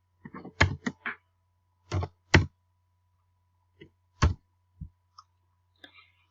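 Computer mouse clicking while working in the Flipgrid app, a series of sharp close clicks in irregular clusters separated by quiet pauses.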